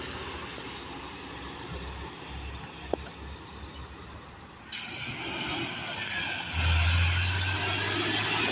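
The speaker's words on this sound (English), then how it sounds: "Another yellow truck." A yellow dump truck rumbles past on a road, its engine noise swelling from a steady background roar into a louder, closer pass with a low drone near the end, and no one talking.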